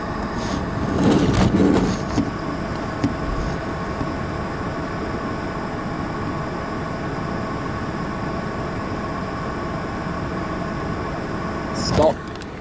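An Istobal M'Nex 22 automatic car wash at a Mobil station in Paraparaumu runs around a car, giving a steady mechanical drone with a steady hum, heard from inside the vehicle, plus louder whooshing swells near the start and end.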